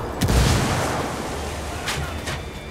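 Frag grenade explosion in the Ghost Recon Wildlands video game: a single deep boom that rings out at the start, with a few fainter crackles of gunfire trailing behind it.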